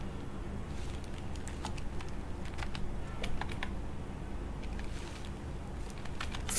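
Soft keystrokes on a computer keyboard, a few quick irregular taps clustered in short bursts over a low steady hum, fairly faint and close, with no voices.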